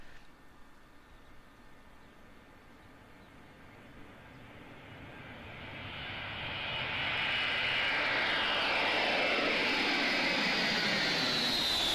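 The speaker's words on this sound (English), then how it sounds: "the old engine's on there, Erwin." An old aircraft engine drones steadily, then builds to a loud, roaring whine in the second half as it runs up to full power.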